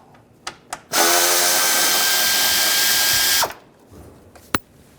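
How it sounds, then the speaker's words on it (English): A power tool spins an 8mm socket to back out a bolt during radiator fan replacement on a 2013-2016 Dodge Dart, one steady whirring burst of about two and a half seconds, close and loud, between a few small clicks. "Using a 8mm socket, take this bolt out."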